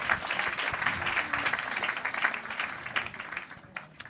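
A congregation at a church wedding bursts into warm, sustained applause, dense clapping from many hands close by that holds steady and then thins out toward the end.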